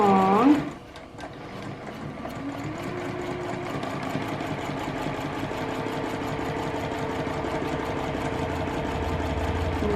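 A sewing machine stitches a quilt seam with a fast, steady mechanical whir that runs continuously up close, following a brief tonal noise at the start.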